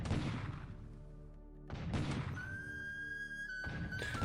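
Naval bombardment by Allied ships in the War in the Pacific strategy game: a few heavy, muffled gunfire thuds and booms in bursts, with a rising whistling tone between them, fairly loud and with no talking.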